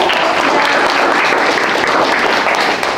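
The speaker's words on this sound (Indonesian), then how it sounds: "Oke, berikan tepuk tangan." Loud, steady applause from an audience at a classroom teaching session, a dense continuous clatter of many hands clapping close by for a few seconds with no talking over it.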